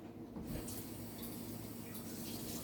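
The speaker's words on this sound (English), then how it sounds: "I'm gonna wash this" Steady tap water runs continuously into a sink while a glass jar used for apple cider vinegar is rinsed, a broad even hiss with no voices.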